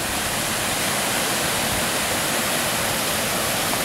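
Steady, loud rush of water pouring through the bottom valve of a dam into a trout creek, broadband and continuous with no pauses, heard alone without any voices.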